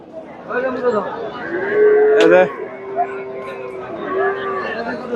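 Cattle moo repeatedly at a busy Bangladeshi livestock market selling bulls, including local Sahiwal cattle, with one loud, sustained low moo near the middle over a steady murmur of crowd chatter.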